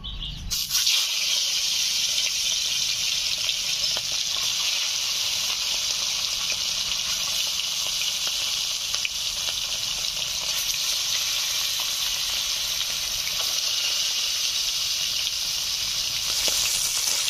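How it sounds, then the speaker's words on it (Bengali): Rui fish frying in hot mustard oil in a kadai, a loud, steady, continuous sizzling hiss that starts abruptly and runs unbroken, with no talking. "তেল ভালো করে গরম করে মাছগুলো ভেজে নেব।"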